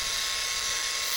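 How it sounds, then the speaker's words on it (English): Wet grinder running while it polishes larger rocks, a steady high-pitched whine with a hissing edge, unbroken over the short span, no talk. "The grinder's been going pretty well."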